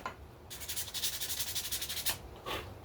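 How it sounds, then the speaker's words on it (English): Motorcycle brake pads are scuffed by hand with 120-grit sandpaper, making a close, rapid run of rhythmic rasping strokes for about a second and a half, followed by a couple of separate rubs. "I get a bit of 120 sandpaper. Just give them a bit of a scruff."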